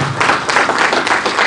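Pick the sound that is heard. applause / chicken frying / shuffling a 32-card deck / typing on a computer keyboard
applause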